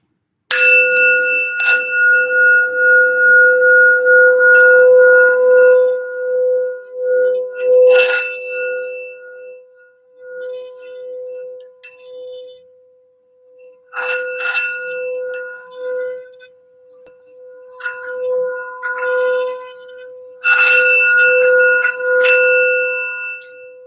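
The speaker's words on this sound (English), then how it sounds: "Sound bell for general healing and grounding for the reading." A metal bell is struck several times with long ringing tones that sustain and fade between strikes, alone with no talking.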